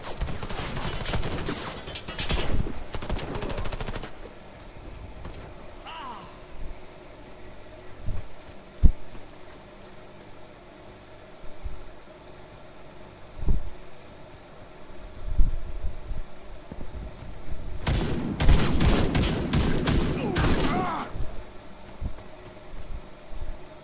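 Scattered bursts of rapid gunfire in a Warface team deathmatch on the Hangar map, a couple of loud clusters at the start and near the end, with isolated single sniper shots between.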